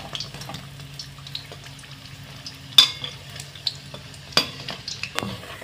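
Besan fritters fry in a pan with a low, steady sizzle, broken by a few sharp clinks of a utensil against the pan.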